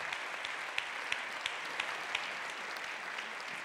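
A continued round of crowd clapping for film editor Robert Ciodyk at a documentary screening, a dense, even wash of hands with a few louder individual claps, heard from some distance with no voices.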